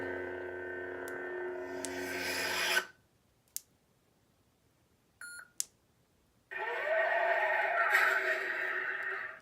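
Electronic lightsaber hums and buzzing swings from a Starfall Sabers Prizm V4 saber with the Rancor Saber sound font, two long sustained bursts separated by short clicks and beeps, loud and close with no talking.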